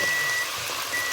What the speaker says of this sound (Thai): ขอโทษนะคะเสียงไมโครเวฟค่ะ